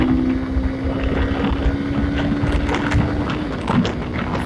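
A Honda Hornet 160 motorcycle cruising in third gear, its engine a steady droning hum with a constant tone beneath heavy wind rush buffeting the microphone, no gear change or talking.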